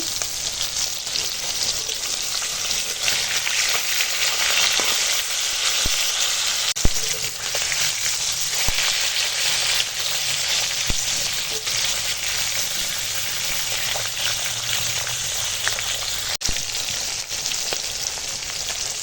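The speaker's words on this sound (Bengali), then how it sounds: "মাছ তো ভাজছি" Continuous close-up sizzling and crackling of catla fish frying in oil, steady throughout with occasional faint clicks, no voices.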